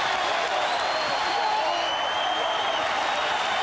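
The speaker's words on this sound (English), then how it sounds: "listen to the New York crowd cheer their team" A New York arena crowd at an NBA Finals game between the Spurs and Knicks cheers and applauds in a dense, continuous roar that is loud and unbroken throughout.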